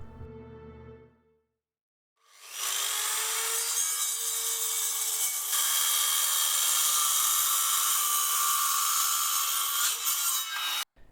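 Woodworking power tools cut and plane wood, a loud, dense, continuous whine and rasp running for about eight seconds after a short lull, then stopping abruptly.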